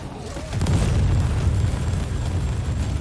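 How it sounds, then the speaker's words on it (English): Heavy Bolter frag shells exploding in the Warhammer 40,000: Inquisitor video game, a loud run of deep booming blasts that starts abruptly after a brief quieter lead-in and rumbles on continuously. "Especially the frag shells there, which just tear these guys apart"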